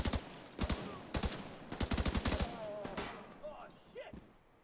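Gunfire in The Division 2, repeated bursts of rapid sharp shots in clusters, loud and close, tapering off with scattered game sounds and a voice briefly heard in the background.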